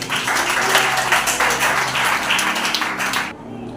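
A church congregation claps together in a loud, continuous burst of applause lasting a few seconds, dense and close, before cutting off abruptly.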